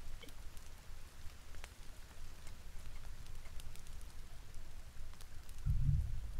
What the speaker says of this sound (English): Rain, go away and just let it be day again.